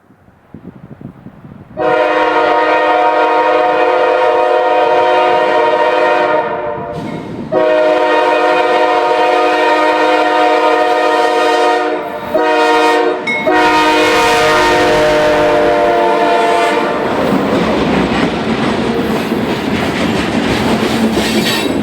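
GE Dash 8 locomotive leading a westbound freight train on the CSX Porter branch near Ivanhoe Junction, its horn blaring in long loud blasts with short breaks, then fading into rumbling, clattering wagons and wheel squeal as the train passes close by.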